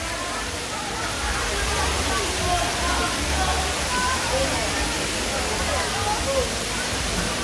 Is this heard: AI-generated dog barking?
no